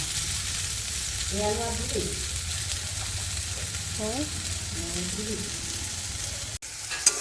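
Pumpkin bori sizzles steadily in a pan as pieces fry, with a few scraping stirs breaking through the continuous crackle and a brief soft voice in the middle.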